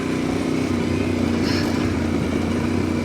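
Adventure motorcycle riding along a bush track through pine plantation country, its engine droning steadily and close, with the rough surface rattling the bike throughout.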